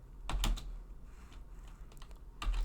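Computer keyboard typing a short note, a couple of quick bursts of close key clicks separated by a pause, quiet room and no voices.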